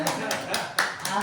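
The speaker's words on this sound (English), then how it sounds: "that's a nice place to clap." A few separate claps from a small audience during a talk, about five distinct sharp hand claps spaced irregularly, close and fairly loud, with no crowd buildup.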